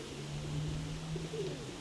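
Pigeons coo softly in a low, steady hum with a couple of brief rising notes near the end, heard close and alone against a light outdoor hiss.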